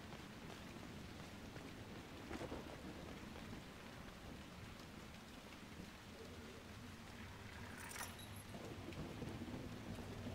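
A quiet, steady thunderstorm from the game Dragon Age: Inquisition: continuous rain hisses throughout while soft thunder rumbles underneath, with a brief brighter crackle near the end.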